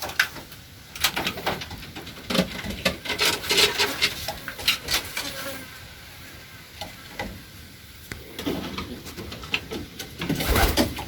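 Pigeons in a breeding loft feeding their young, with soft cooing, rustling and scratchy bird sounds close by in bursts throughout, no talking.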